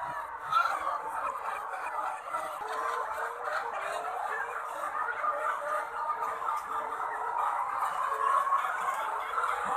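A dense, continuous chorus of many laying hens, about 5,300 birds in a poultry house, clucking and squawking together, filling the space at a steady, busy level with no talking.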